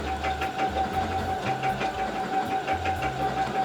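A sewing machine stitches fabric close up with a fast, regular mechanical chatter, its motor pulsing in short bursts as the needle runs and pauses.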